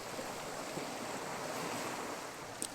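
Steady wind rushes over a microphone on a Sussex beach by the sea, with surf washing continuously beneath it and a brief faint tap near the end.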